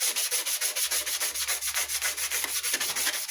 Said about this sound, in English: I'm just taking some 240 sandpaper over it and going in one direction to give it that kind of aluminum look